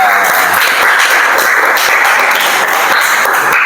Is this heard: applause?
yes